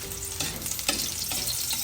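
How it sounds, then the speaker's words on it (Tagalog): Garlic and onion sautéing in a pan for ginisang repolyo: a close, loud sizzle with scraping stir strokes breaking in at intervals, continuous for under two seconds, without talk. "Ginigisa na po natin yung bawang sibuyas."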